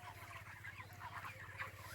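A flock of about 2,200 chickens in a poultry farm shed clucks and murmurs continuously, a faint, dense crowd of bird calls with no talking.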